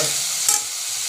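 Chopped tomatoes cook with softened onion in a pan for upma, a soft, steady sizzle with a short scraping stir midway, heard alone.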